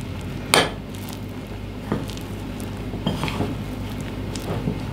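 A cornstarch mixture stirred in a bowl: a few light utensil taps and scrapes against the bowl, faint and spaced out over a low steady background hum.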